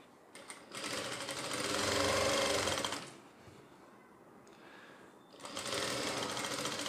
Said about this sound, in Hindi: अब हमें इसकी साइड की सिलाई लगानी है